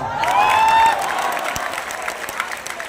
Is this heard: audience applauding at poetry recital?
yes